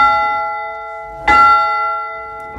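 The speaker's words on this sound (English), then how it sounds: "that strikes the side of the bell, whereas that rope actually tolls the bell" A church bell at a Baptist chapel, struck on its side by a rope-operated striking mechanism, gives one loud clang about halfway through, and its long ringing hum sustains on either side of the strike.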